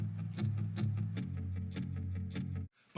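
A chopped, plucky guitar sample with volume automation picks short rhythmic notes over a sustained low tone, evenly pulsing for over two seconds before stopping abruptly, with no talking.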